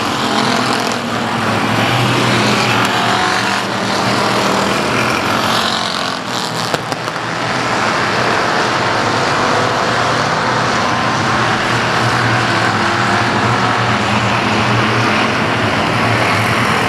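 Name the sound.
race cars driving the final lap at South Texas Speedway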